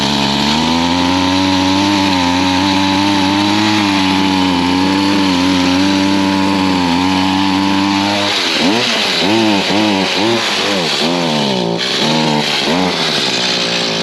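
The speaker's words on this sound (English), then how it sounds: "Hedge trimmer's not running right" A gas hedge trimmer running rough, as if starved of fuel, holds a loud steady buzzing drone up close, then begins surging and wavering unevenly in repeated rises and dips during the second half.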